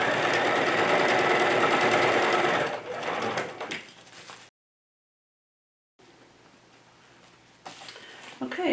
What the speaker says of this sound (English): you will be sewing through a large amount of fabric